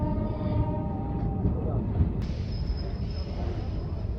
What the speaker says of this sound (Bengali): রাত প্রায় 9:30টার সময় আমাদের ট্রেন এসে পৌঁছালো আলুয়াবাড়ি রোড জংশন